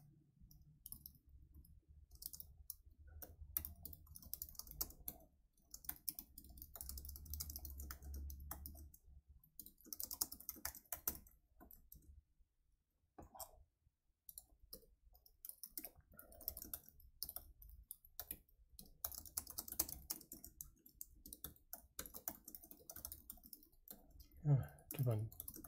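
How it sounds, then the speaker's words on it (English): Typing on a computer keyboard, faint rapid clicking in irregular bursts and pauses over a quiet background. "Keep on typing that."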